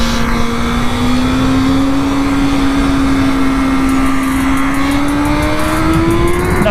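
A 2022 BMW S 1000 RR motorcycle engine revs high and steady, its loud whining tone climbing slowly and holding through the whole stretch, with no talk over it.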